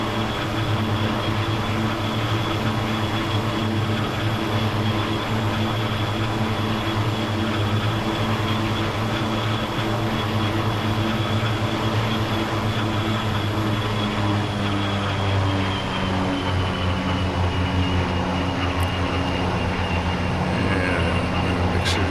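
An OV-10 Bronco twin-turboprop in the DCS flight simulator roars steadily through its takeoff run, a loud, dense propeller drone with constant engine tones that shift slightly in pitch as it climbs away, no speech.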